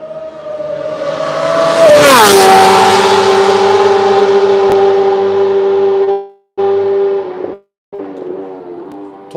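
A racing motorcycle ridden by Toprak passing by on track, a loud close engine howl that swells, drops in pitch as it goes by, then holds a steady whine before cutting out in short gaps.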